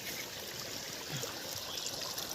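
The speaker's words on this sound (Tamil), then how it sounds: "நல்லா தண்ணி வாழைத்தோப்புக்கு ஃபுல்லாகவே தண்ணி அப்படியே போயிட்டுருக்கு" Water from a 1200W BLDC motor pump runs steadily through a roughly three-foot irrigation channel in a banana grove leading to paddy fields, a continuous near trickling flow with no talk.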